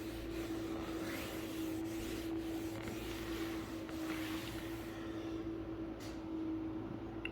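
Microfiber cloth wiping a wood surface treated with tannin spot remover, a steady soft rubbing swish running continuously at close range with no talk.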